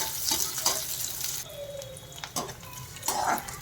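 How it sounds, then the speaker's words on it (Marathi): Chopped onion sizzles and fries in a pan for amti, a Maharashtrian dal, with occasional stirring scrapes over a steady close-up crackle. "त्यामध्ये हा कांदा आपण जो चिरला आहे ना तो घालूया. आणि हा सोनेरी रंगावर परतून घेऊया."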